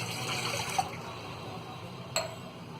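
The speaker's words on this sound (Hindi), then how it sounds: "और इसमें हमें ये 1 गिलास पानी डालेंगे।" A glass of water is poured into a cooking pot on a gas stove for a raw mango drink, a steady close splashing pour with two brief louder splashes.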